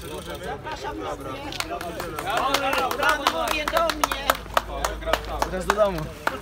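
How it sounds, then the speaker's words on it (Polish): Applause for the top young cyclists at an Orliki international Polish-Ukrainian cycling race ceremony in Zamość, with scattered clapping from coaches and teammates rising under someone talking over a public address. "Czekamy na brawa od trenerów, od kolegów"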